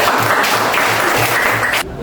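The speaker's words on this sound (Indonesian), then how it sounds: "Tepuk tangan buat Kopet dan Arya." Students in a classroom applaud two classmates, brisk, close clapping that fills the room before cutting off abruptly near the end.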